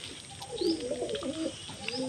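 Pigeons coo softly while eating grain, a few low, rolling calls close by over faint background hiss, with one or two brief higher chirps.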